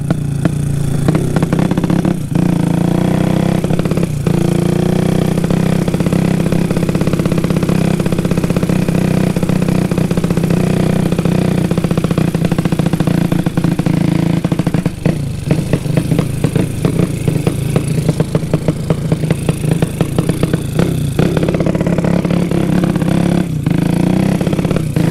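Loud, continuous roar of a motorcycle with an exhaust modified to sound like a helicopter, riding through a residential neighborhood, with a steady heavy drone and several throttle surges and revs throughout.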